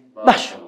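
One loud, sharp sneeze close by, a short burst that swells and trails off within half a second, set against a quiet room.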